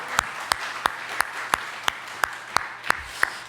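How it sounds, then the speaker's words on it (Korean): A church congregation gives a round of applause in praise to God, heard as steady, evenly spaced claps in unison, about three per second, over a low electrical hum. "우리 다시 한번 하나님께 영광의 박수 올려드리겠습니다"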